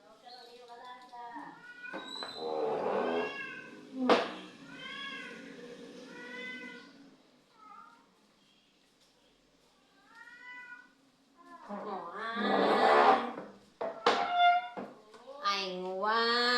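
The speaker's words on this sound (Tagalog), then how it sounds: "Nangiyaw ang aming alaga." A pet cat meows repeatedly indoors, a string of clear mid-length calls with short pauses between them. A person talks quietly at times between the meows.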